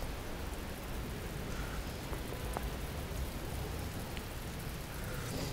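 Steady rain falls on a Paris city street, a soft, continuous hiss of drops with faint low rumbling underneath, evenly spread and fairly quiet.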